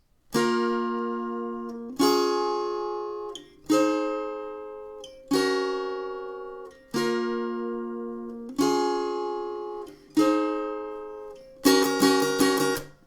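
An acoustic guitar plays the pre-chorus chords of a song: six slow, full strums that each ring and fade, then a quick run of rapid strumming at the end.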